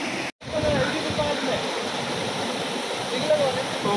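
River water rushes steadily in a loud, close, continuous broadband flow, briefly cut out once near the start, with faint voices partly mixed in.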